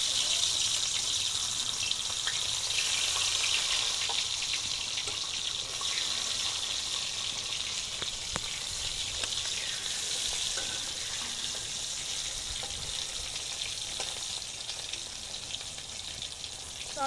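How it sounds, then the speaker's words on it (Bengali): Tomatoes fry in oil left over from chillies, giving a continuous close sizzle and hiss that holds steady throughout and fades slightly toward the end, with occasional clinks. "ওই তেলে টমেটোগুলো ভেজে নেব।"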